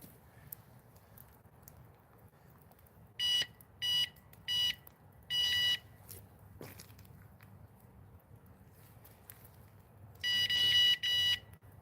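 An electronic bite alarm on a fishing rod holder sends out a run of short, shrill beeps, four spaced bursts and then a longer pair, over quiet outdoor background noise.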